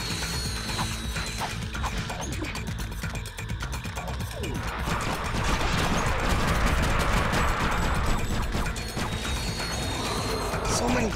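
Bolts pour in during Ratchet & Clank: Deadlocked, a rapid stream of metallic clinking pickups over busy mechanical clatter and explosive game effects, steady and loud throughout.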